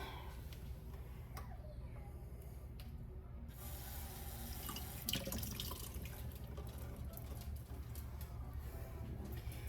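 Cold tap water runs steadily over a clump of frozen ground beef in a kitchen sink, a continuous close splashing wash with a few brighter spatters and no pauses.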